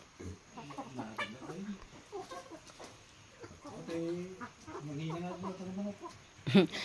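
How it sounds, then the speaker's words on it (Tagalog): Native chickens cluck softly at a rural feeding, with bursts of clucking heard close and moderately loud. People talk over and between the clucks. "Balong, pinakain ko na yung manok mo."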